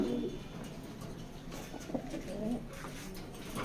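Racing pigeons coo softly in a loft, giving low, murmuring calls spread through a faint background hum with no clear talk.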